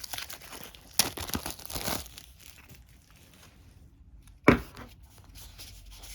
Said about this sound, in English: opening up another package here